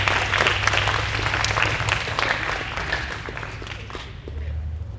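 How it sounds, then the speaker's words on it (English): Applause from a school assembly audience at a middle school prize day ceremony, dense and steady clapping from a large crowd lasting throughout, fairly loud and sustained with no talk over it. "You all deserve a round of applause."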